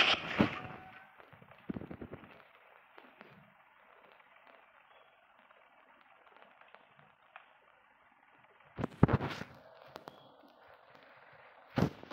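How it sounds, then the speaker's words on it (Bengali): Gunshots fired in a video game, heard as sharp, loud bursts: a couple near the start, one around the middle, a tight pair later, and a final crack at the end, with quiet game ambience between. "এই যে বন্দুকের গুলি মারলাম"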